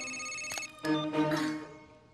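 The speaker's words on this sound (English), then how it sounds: "Someone stop the ringing." A telephone rings with a tonal, electronic bell pattern in a couple of short bursts, moderately close, with no talking.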